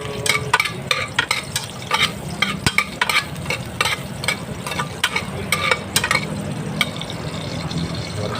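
Garlic is stir-fried for pakbet with alamang, a close sizzle broken by frequent sharp scraping and clinking strokes of a utensil against the pan in an uneven rhythm, with no talking.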